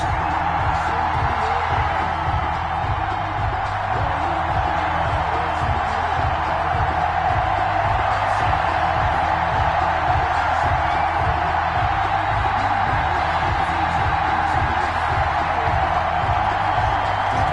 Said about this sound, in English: This crowd is ready as their guys between the Cleveland Browns and the Baltimore Ravens.